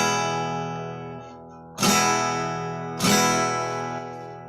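Acoustic guitar notes ringing out with sustained harmonics, followed by two strong strummed chords about a second apart that decay slowly, played alone with no talking.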